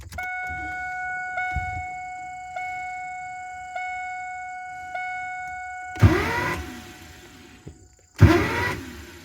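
A 2000 Pontiac Firebird with a new clutch master cylinder: a steady electrical whine with periodic clicks, then two short, loud bursts of starter cranking a couple of seconds apart.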